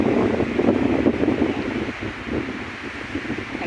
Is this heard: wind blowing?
yes